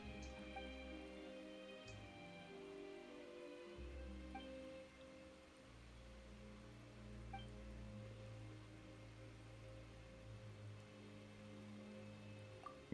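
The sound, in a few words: rain falling in video game Genshin Impact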